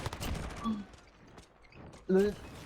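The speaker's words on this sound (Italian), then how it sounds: "L'unica cosa brutta dell'FMG è quando spari ma uccidi con un colpo." FMG gunfire in Call of Duty multiplayer, a few short, fairly quiet bursts of rapid shots separated by pauses, with a voice talking over the game sounds.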